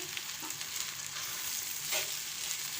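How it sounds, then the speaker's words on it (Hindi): Rice mixed with masala fries in a pan, producing a soft, even sizzle with faint stirring scrapes, fairly quiet and with no talking. "इसे हम 1 मिनट तक फ्राई करेंगे"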